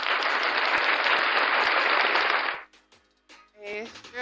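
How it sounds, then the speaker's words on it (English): A studio audience breaks into loud, dense applause for a guest host on a talk show, a steady wash of clapping for about two and a half seconds that cuts off abruptly, followed by a brief voice. "Let's give her a round of applause for being here"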